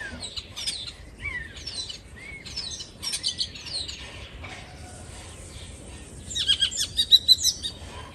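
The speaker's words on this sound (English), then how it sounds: "So hi, bird. It's never quiet outside." Birds chirp and tweet outdoors in scattered bursts of high, quick calls, growing livelier toward the end against a quiet background.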